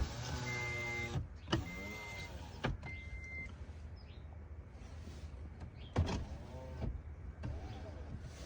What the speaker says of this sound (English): I'm gonna roll my window down because it's getting hot in my car.